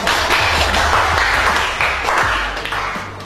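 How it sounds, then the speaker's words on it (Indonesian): Applause from a classroom audience after a group presentation in a teacher-training session: dense, steady clapping throughout, loud and close, easing off slightly toward the end. "Tepuk tangan kita semua."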